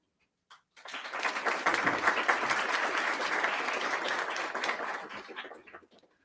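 Strong applause rises from the audience at the UPAMUN model UN ceremony, a dense, loud round of clapping that swells quickly, holds for several seconds, then tapers off.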